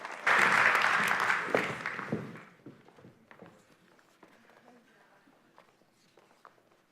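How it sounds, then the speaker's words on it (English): Loud audience applause at a high school senior awards ceremony breaks out, then fades after about two seconds into scattered claps, footsteps and quiet shuffling in the room. "So one more round of applause for Erica"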